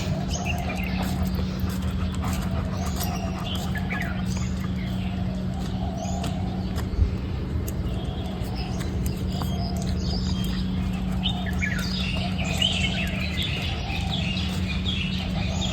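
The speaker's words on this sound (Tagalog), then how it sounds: "kung narinig yung mga ibon." Faint birds chirping and tweeting intermittently in the distance in Hong Kong, over a steady low hum and background ambience.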